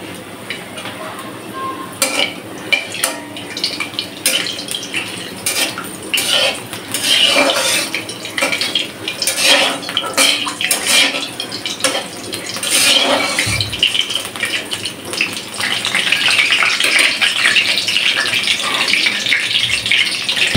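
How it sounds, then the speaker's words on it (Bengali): Bay leaves, star anise and black cardamom crackle in hot soybean oil in a wok, a busy close sizzle with metal scrapes and clinks throughout. "কড়াই বসায় তেল দিয়ে দিচ্ছি, সয়াবিন তেল। এর ভিতরে দিয়ে দেব তেজপাতা"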